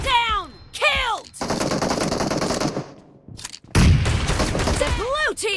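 Gunfire in the mobile shooter PUBG Mobile, from an M1014 shotgun, rings out loud and close in long dense bursts, broken by short game voice callouts.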